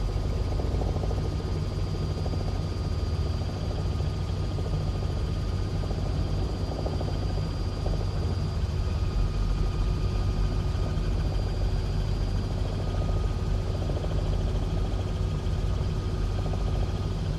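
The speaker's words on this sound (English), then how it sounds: "It's like a little rocket ship, this helicopter." A Robinson R66 helicopter in a flight simulator game, flying on a steady, dense turbine-and-rotor drone that stays loud and unbroken throughout, with no talking.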